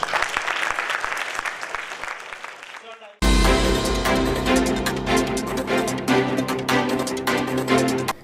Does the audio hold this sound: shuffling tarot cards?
no